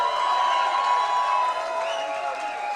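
Stadium-style crowd noise of steady cheering and applause at a Packers event celebrating a 41–17 win over the Vikings, a dense continuous roar with some whoops throughout.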